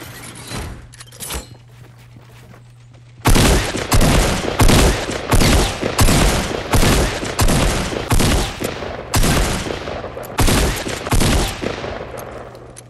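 Shotgun fire in Fortnite Battle Royale: after a quiet opening, loud shots burst out one after another at about half-second intervals and keep going to the end.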